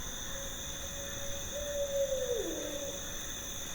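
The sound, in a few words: owl hooting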